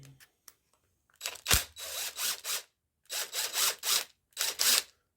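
Screws being backed out of an RC car's front differential, heard as repeated bursts of close, sharp ratcheting driver whirs separated by brief pauses, with a few small clicks beforehand.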